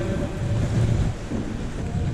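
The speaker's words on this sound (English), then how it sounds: "So y'all hear this water rushing up ahead of us." Water rushing and dripping inside a large underground mine, a steady low roaring wash that fills the whole stretch without a break and sounds close and enclosed, with no one speaking.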